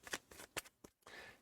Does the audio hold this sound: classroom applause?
no